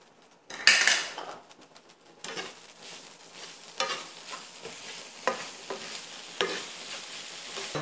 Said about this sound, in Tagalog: Haluin lang natin mabuti para